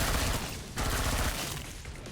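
SWAT's Bastion gun fires a rapid automatic burst at enemies in Killing Floor 2, a dense, loud stream of shots with a short break partway through, heard alone.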